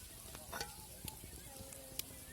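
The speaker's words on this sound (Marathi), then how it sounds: "गरम झालेला तवा बी आता आपल्याला इथे तेल टाकायचं आहे आणि परतून घ्यायचं आहे" Quiet, continuous sizzle of green chilli paste frying in oil on a hot griddle over a wood-fired stove, broken by a few soft scrapes and ticks, no speech.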